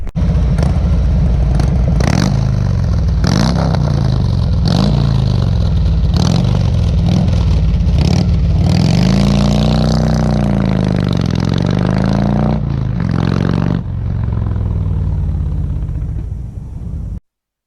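Motorcycle engine heard on a ride along Sierra Peaks Drive, loud and close, with repeated gear-change blips and rising and falling revs, then a steady pull before cutting out abruptly; no one talks.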